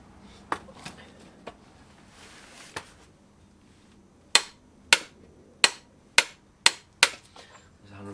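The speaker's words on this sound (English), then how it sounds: "keep a tight hold of this while I torque up the nuts" Torque wrench tightening the nuts on a Classic Mini 1380 build to 150 foot-pounds: sharp, close metallic clicks, a few scattered at first, then six loud, evenly spaced snaps in quick succession.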